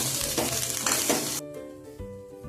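Chili powder, chaat masala and salt are stirred together with sweet corn, giving about a second and a half of loud, close scraping and rustling. A quieter ringing, clinking tail follows.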